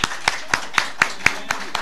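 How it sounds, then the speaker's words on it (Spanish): A few people clap at a religious and political tolerance conference, sounding as sparse, evenly spaced sharp claps, about eight in under two seconds, close and distinct rather than a full crowd's applause. "El aplauso de ustedes, pero bien fuerte."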